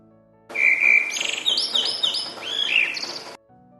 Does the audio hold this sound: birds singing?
yes